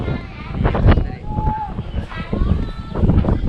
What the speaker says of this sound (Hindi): इतना ज़बरदस्त हवा चल रहा है यहाँ पर।